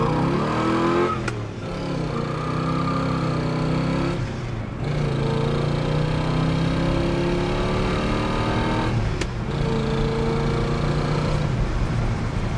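A 1967 Pontiac GTO V8 accelerating on the road through the gears, loud continuous engine roar rising in pitch with brief drops at two gear shifts, heard from inside the car with no talk.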